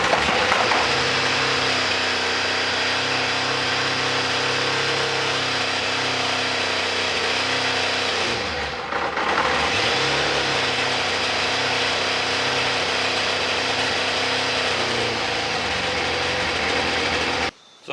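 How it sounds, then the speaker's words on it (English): An old Kawasaki ZZR 600 sport bike with a bad starter clutch runs at a steady idle, its engine drone briefly dipping midway and cutting off abruptly at the end. The starter clutch clank is not distinctly evident. "that clank when it's fired up, that's the starter clutch."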